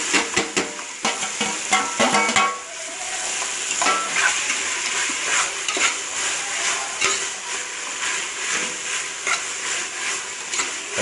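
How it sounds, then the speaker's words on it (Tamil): Tomatoes sauté in a pan with onion, green chili and ginger garlic paste for vegetable biryani, a steady close sizzle broken by repeated scraping stirs of a spoon against the pan. "தக்காளி நல்லா வதங்கட்டும்"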